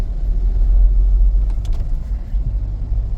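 A car drives through rain in Pune, a steady low road rumble and engine drone heard from inside, with a few faint clicks midway and no voices.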